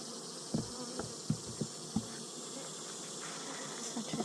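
Honeybees at an opened hive make a continuous close hum, with a few soft knocks of frames and hive parts being handled.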